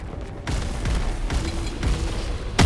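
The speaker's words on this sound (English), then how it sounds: "Explosions?" Explosions in Expedition 33 go off as several deep booms in a row, one roughly every half second, over steady rumbling, loud and close, ending in a heavier blast.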